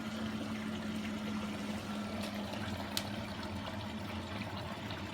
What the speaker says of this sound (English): You can see the water filling up there.